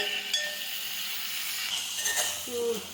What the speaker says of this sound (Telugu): వేసుకొని ఒకసారి మొత్తం ఆయిల్లో కలిసే విధంగా కలుపుకోవాలి